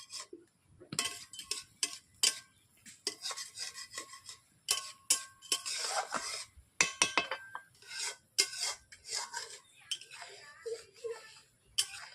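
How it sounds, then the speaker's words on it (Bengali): Repeated scraping and rubbing strokes of a spatula against a pan as a mustard-based salted mural fish jhal curry is stirred, with light clinks of utensil on metal in an irregular rhythm, fairly close and moderately loud. "বন্ধুরা, এইভাবে আমি মাঝের মধ্যে নেড়ে নিচ্ছি।"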